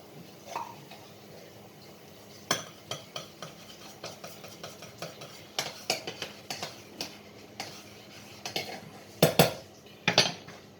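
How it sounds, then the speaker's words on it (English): Spoon clinking and scraping in a pan while tamarind paste is stirred into a vegetable curry sauce, a string of sharp, close metallic taps and scrapes at irregular intervals. "into the veg curry sauce, I'm going to put a spoonful of tamarind paste"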